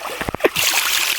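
A child playing in a rocky natural stream in Kerala, a few quick splashes and knocks early on, then a steady rush of flowing water close by.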